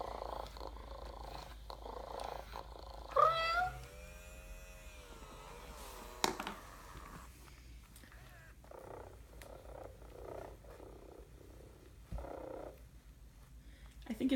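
Hasbro Joy for All robotic toy cat giving a soft, synthetic-sounding meow with a wavering tone mid-clip, over a low steady purr, with faint talk in the background.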